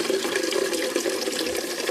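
Hot water pours steadily into a frying pan of olive oil, garlic and ginger while cooking shrimp sotanghon, making a continuous close rushing, splashing flow with no pauses.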